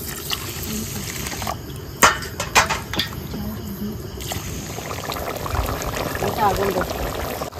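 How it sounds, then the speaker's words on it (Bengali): Gobindobhog rice being washed in water, with trickling, splashing water and a few sharp knocks against the vessel, close, under a voice speaking. "এবার চালটা একটু ধুয়ে তারপর ভিজিয়ে রাখবো।"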